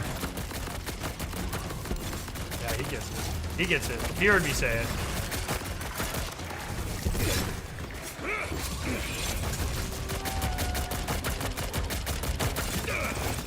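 Rapid video game gunfire in Borderlands 4 during a boss fight, with dense bursts of shots and mechanical clatter running continuously under excited talk from players.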